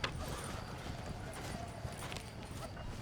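Horse hooves clip-clop steadily in Red Dead Redemption, a continuous mid-level trotting rhythm blended with a rumbling game soundscape and background noise.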